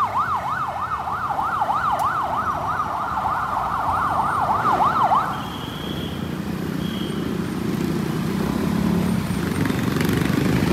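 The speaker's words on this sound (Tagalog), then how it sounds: "Ambulansya." A wailing ambulance siren on Marcos Highway in Antipolo City rises and falls rapidly in a yelp pattern for about five seconds, loud and near, then cuts out leaving the rumble of passing traffic.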